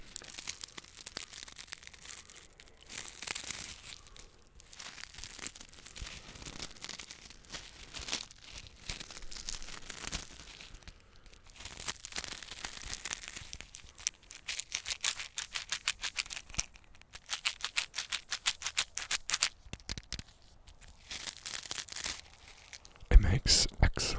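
Sand and colorful shells crunch and crinkle close up on a hillside, a steady stream of gritty rustling with sharper crackles, with quiet talk mixed in.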